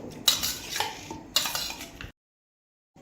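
A spoon stirs black pepper powder into chicken masala in a pan, giving two bursts of scraping and clinking against the metal before the sound cuts off.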